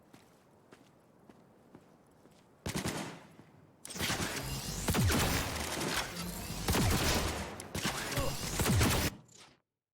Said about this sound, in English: Quite the fireworks show.